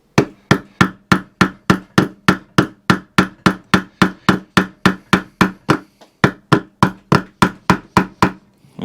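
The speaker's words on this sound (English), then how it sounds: "just gently tap. I'll use a soft blow hammer" A soft blow hammer gently tapping a Honda Pro gearbox casing on a Kaaz Lawnflight mower into place, a long, even series of firm, evenly spaced knocks, loud and close with no voices.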